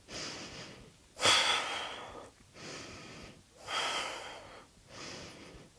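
Slow, heavy breaths close to the ear during a yoga backbend, long loud inhales and exhales alternating in a steady rhythm with short pauses between.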